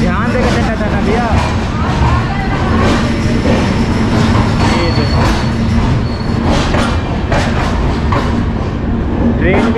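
A moving train at a busy station in Darbhanga, loud rumbling wheels and clattering rail cars with squealing, while a crowd of voices talks and shouts over it the whole time.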